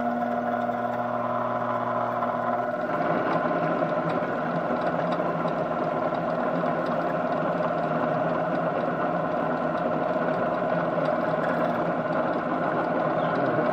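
A homemade machine for twisting clothesline rope runs on a slightly loose drive belt, giving a steady, close mechanical hum with continuous rattling and ratcheting gear noise throughout, with no talking.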